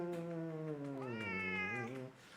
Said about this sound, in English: He's very vocal, so you'll be hearing a lot of meows while he's in here